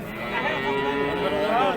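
Cattle at a livestock market in Kastamonu, one cow giving a sustained low moo over the murmur of a crowd, with people talking in the background.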